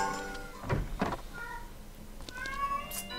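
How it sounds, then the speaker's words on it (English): A cat in heat meows insistently in a Zelda: Ocarina of Time village scene, with drawn-out yowling calls near the start and further cries toward the end. "Shut up, cat. I know you're in heat,"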